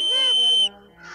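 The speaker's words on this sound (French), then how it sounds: "Je n'ai peut-être pas sifflé assez longtemps." A magic whistle from a Smurfs cartoon gives a bright, piercing tone with rich harmonics for about half a second, then cuts off sharply, leaving faint, softer tones afterward.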